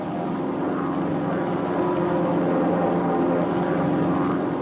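Propeller airplane engine at full throttle during formation flight, a loud steady drone with a constant low rumble throughout, no speech.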